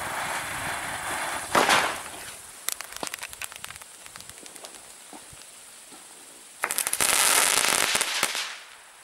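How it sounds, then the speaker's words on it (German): Rambo fireworks go off at dusk outdoors: a loud crackling burst, then a run of sharp scattered pops and bangs, then another dense loud crackle that fades toward the end. "Jetzt die geilen Rambos. Mal sehen, welcher Effekt."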